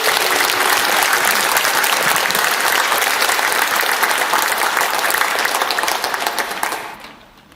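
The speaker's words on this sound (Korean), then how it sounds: "우리 한번 아이들 위해 박수 한번 하겠습니다." A church congregation applauds for the children, with loud, dense clapping from a large crowd that holds steady for several seconds and then fades out.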